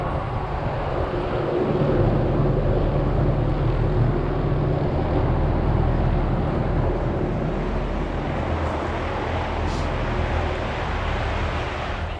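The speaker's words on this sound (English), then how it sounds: "Helicopter came." A steady, broad mechanical roar of a helicopter flying overhead fills the air for several seconds, with wind buffeting the microphone and no speech.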